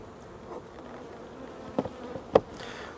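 A faint, steady buzz from a swarm of honeybees at a hive, low and continuous, broken by a couple of brief clicks and knocks.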